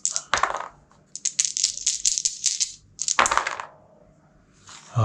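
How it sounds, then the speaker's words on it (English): Four dice rolled in a solo board game boss battle rattle and clatter in a few quick bursts of rolling, then settle, fairly close with no talk over them. "He's gonna roll his 4 dice."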